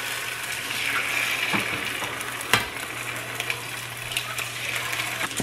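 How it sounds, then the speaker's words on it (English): Eight eggs frying together in a hot pan, a loud continuous sizzle and crackle up close, with a single sharp clack partway through. "Now to this hot pan, I have 8 eggs here I'm going to add."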